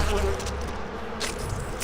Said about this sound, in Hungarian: Ott egy darásfészek van, lőtt szét. Ja, már támadják is a méhek.